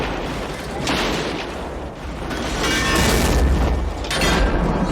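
Fuel tanks of a ship blowing up after a thermite grenade in the 1999 sci-fi horror film Virus, heard as loud, sustained booming rumbles with repeated surges of blast energy over about five seconds.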